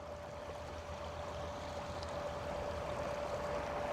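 A paddleboard driven by an ePropulsion E-Lite electric outboard motor pushes a large wake, giving a steady rushing wash of water with a faint, constant motor whine underneath and no talking.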